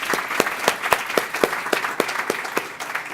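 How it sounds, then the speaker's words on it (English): Audience at a college and career pathways summit applauding event sponsors, a scattered round of distinct individual claps in an irregular rhythm, moderately close, with no talk over it. "Let's give them a round of applause."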